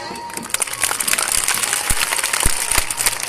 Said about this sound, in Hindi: बच्चे ताली बजाएं